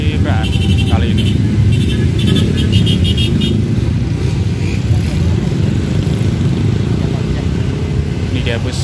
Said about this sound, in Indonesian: Ini dia bus Bagong Jos Ngalek dari arah Surabaya yang akan menuju arah Trenggalek ya